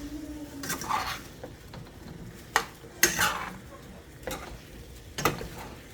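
A spoon stirs pork chops in a thick paste inside a pressure cooker pot, giving several sharp metallic scrapes and knocks against the pot, spaced out between quieter stretches.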